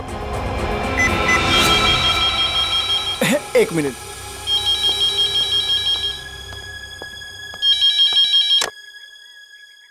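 A telephone rings in repeated electronic trilling bursts, loud and close, while voices talk over it.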